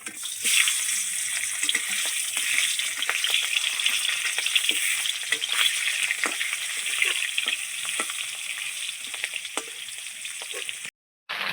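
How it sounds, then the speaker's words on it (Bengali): Rohu fish heads coated in salt and turmeric sizzle and spit in hot oil in a home kitchen, a steady crackling fry with sharp pops throughout, ending in a brief silence. "মাছের মাথায় নুন দুধ মাখিয়ে নিয়েছি সেই মাথাগুলোকে এবার ভেজে নেব"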